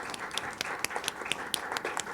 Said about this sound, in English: So let's have another round of applause here.